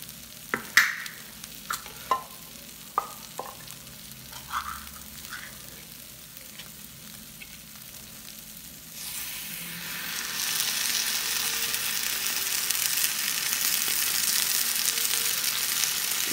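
Vegetables for pisto fry in a pan while a spoon scrapes and taps in short strokes, then the sizzle swells into a louder, steady hiss as tomato and spice go in, close with no talking.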